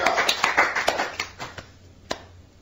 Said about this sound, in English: I think we need a round of applause for Joe.